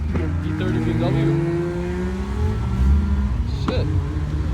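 A BMW E30 goes by with a rising, sweeping engine note that swells close and then eases off, while other engine noise and scattered voices carry on around it.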